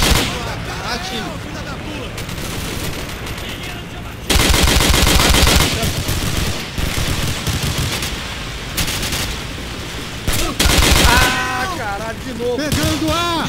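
Rapid automatic gunfire and shots in the video game Call of Duty, set in a Rio favela, with dense loud bursts of machine-gun fire rattling almost throughout, interspersed with shouting voices.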